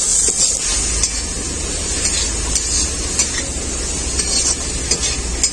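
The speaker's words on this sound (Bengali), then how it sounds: "খুব ভালো করে আমি মশলাটাকে কষিয়ে নেব।" Mixed winter vegetables frying with turmeric, cumin, coriander and chili powders in a pan, a loud dense sizzle with frequent spatula scrapes and taps, close up and continuous.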